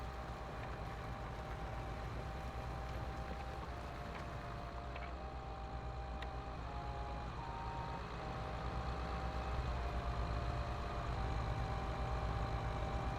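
A Challenger tractor engine in Farming Simulator 22 idles with a low, steady diesel rumble and a faint whine, holding an even level throughout with no talk.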